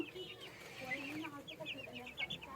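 White broiler chickens in a poultry house give a close, busy chorus of overlapping clucks and short squawks, moderately loud, with some human speech mixed in.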